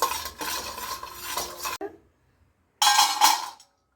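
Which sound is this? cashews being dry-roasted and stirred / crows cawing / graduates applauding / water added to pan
cashews being dry-roasted and stirred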